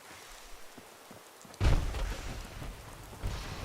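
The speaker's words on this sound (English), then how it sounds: "Vivid weather seems to make a lot more rain on your screen" Rain falls steadily in the Fallout 4 video game, then a sudden heavy thunder crack bursts in and rolls into a loud, sustained rumble under the continuing downpour.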